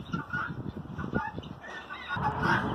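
A hen squawks and honks repeatedly in harsh, rapid bursts, close and loud, with no talking.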